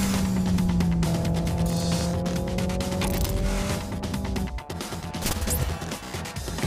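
Race car driving in Race Driver GRID 2, with an engine roaring steadily as it climbs and shifts through gears, tyre and impact noise layered on top, loud and continuous.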